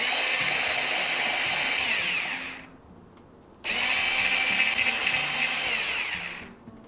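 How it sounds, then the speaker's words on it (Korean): A hand mixer whipping cream whirs steadily at high speed, stops briefly, then starts again and keeps running close by. "먼저 이제 조금 흐르는 듯한 크림을 조금 더 쳐서 만들어 보겠습니다"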